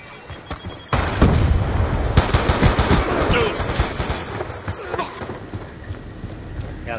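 Rapid bursts of automatic gunfire from a Black Ops II Arms Race match on the Studio map, dense and loud after a quiet first second, with overlapping shots and impacts continuing throughout.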